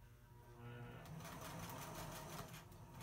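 A sewing machine stitches a band onto the edge of a tablecloth, its steady close whirr picking up speed partway through and running continuously under a faint voice.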